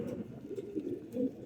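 Pigeons cooing in a fancier's loft, soft low throaty calls rising and falling in a few overlapping phrases, close by and fairly quiet, with no voices.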